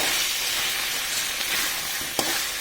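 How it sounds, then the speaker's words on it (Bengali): Potatoes sautéing with spice masala in a pan give a steady, close broadband sizzle with faint scraping stirs and one brief clink near the end. "আলুটার সাথে মশলাটা ভালো করে কষানো হবে"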